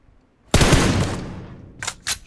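Gunfire from PUBG Mobile erupts in a loud, dense burst of rapid shots that trails off over about a second, followed by two shorter, sharper bursts.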